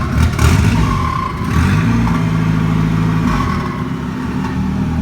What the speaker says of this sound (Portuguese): Vê um turbão funcionando?